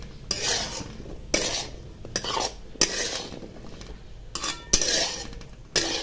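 A vegetable and dal dish stirred in a pan, close scraping and clinking strokes of a spoon against the metal every second or so, moderately loud with no talking.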